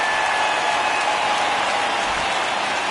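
A home crowd at a baseball stadium roars and applauds after a home run, a broad, sustained wall of cheering that stays steady and loud throughout.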